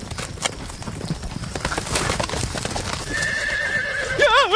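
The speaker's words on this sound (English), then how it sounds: "You nearly took my life with that crazy horse of yours." Hooves clip-clop steadily from a horse being ridden in an evening countryside scene, followed by a loud, shrill neigh near the end.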